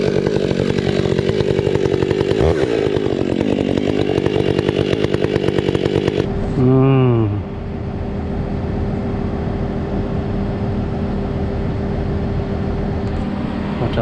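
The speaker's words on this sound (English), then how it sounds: "Probably my best chainsaw that I own." A full-comp chainsaw with squared chain roars loudly while cutting a large dead maple for several seconds, then revs down and settles into a lower idle.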